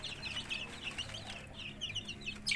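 Chickens clucking softly nearby while being fed, scattered short calls over quiet background rustle, no talking.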